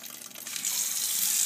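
Filtered Lake Michigan water runs from a kitchen tap with a steady hiss. The flow grows fuller and louder after about half a second, then holds evenly with no voices.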